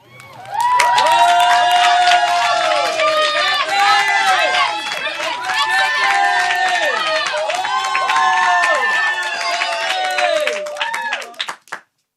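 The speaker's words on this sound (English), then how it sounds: "everyone stood up from their seats and clapped loudly" An audience rising to its feet after a singer's performance, bursting into loud, sustained clapping and cheering that carries on for about ten seconds before cutting off, with some voices in the mix.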